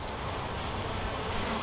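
Honey bees from a newly installed bee package humming in a steady, close, continuous drone, with the buzz dense and unbroken throughout.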